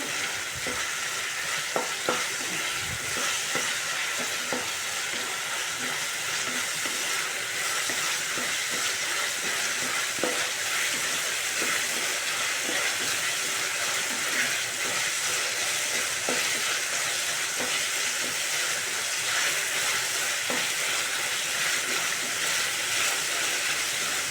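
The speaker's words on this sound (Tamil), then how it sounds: "நல்லா இந்த பச்சை மிளகா ஃப்ரை ஆகட்டும்" Green chillies frying in a pan for a coriander-mint chutney, a continuous sizzle with scattered stirring clicks and scrapes over a long stretch, no talking.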